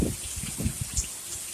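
Heavy rain from Hurricane Ian falls with the wind during a storm in North Carolina, a steady wash of rain with a few low gusty thumps near the start.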